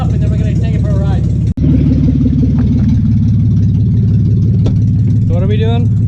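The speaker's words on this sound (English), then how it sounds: "So the truck's really loud because they locked the exhaust at the exhaust manifold, so there's absolutely no exhaust." A truck engine idling loudly with open headers and no exhaust past the manifold, a steady deep rumble close by while someone talks over it.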